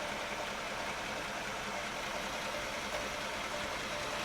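A 1974 Chevrolet C10 engine with a rebuilt Edelbrock 1406 carburetor idles steadily, a constant close rumble with an even, unbroken hum and no voices.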